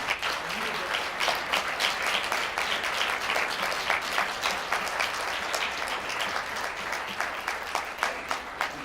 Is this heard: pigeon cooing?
no